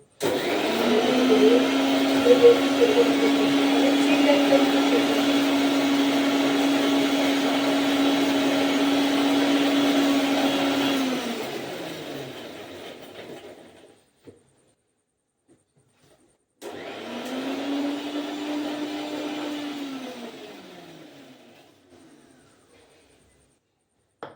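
A mixer grinder whirs steadily for about ten seconds, winds down, then runs again in a second, shorter burst before slowing to a stop.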